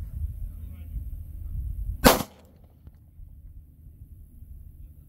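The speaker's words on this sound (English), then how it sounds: "Okay, 5 rounds through the chronograph." A single sharp 9mm pistol shot with a Federal HST 124 grain round, fired from a 3.1 inch barrel pistol through a chronograph outdoors, cracks once mid-clip against low wind rumble.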